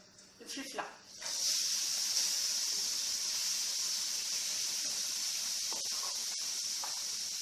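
Peppers dropped into about two spoonfuls of hot vegetable oil in a pan give a sudden loud, steady sizzle that holds evenly after a few clinks and handling noises at the start.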